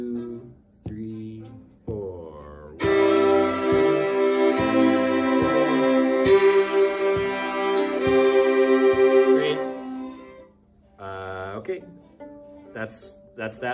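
A fiddle plays sustained bowed double stops on two strings at once, ringing steadily for several seconds, with someone speaking and counting in briefly before and after.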